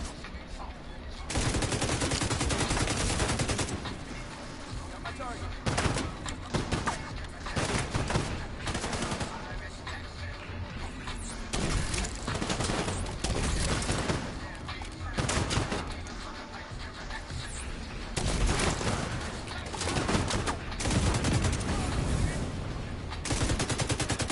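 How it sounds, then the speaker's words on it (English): Turret gunfire at a main gate in a video game, dense rapid bursts of automatic shots that keep returning with only short pauses, loud and close, mixed with game effects and occasional voice. "We're pinned down by turrets at the main gate!"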